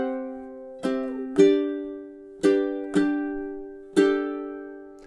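Ukulele triplet strumming through a two-measure phrase of the children's song "Over the River and Through the Woods": five crisp chord strokes in an uneven lilting rhythm, each ringing briefly, close and alone without talking.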